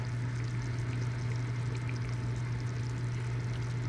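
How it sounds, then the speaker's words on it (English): Provençale beef short rib daube simmering in a pot on the stovetop: a soft, steady bubbling and sizzle with a constant low hum, close and even throughout, no talking. "It's finally come up to a simmer."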